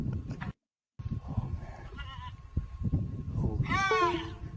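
A goat bleats in a purported cyclops video, a wavering cry near the end after a shorter call, with talk and background noise underneath.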